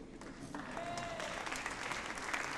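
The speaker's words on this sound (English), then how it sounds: "I think they deserve a big round of applause, the Livewire team" Audience applause for the Livewire team at an outdoor evening community play, a steady, fairly faint patter of many hands clapping with no voices.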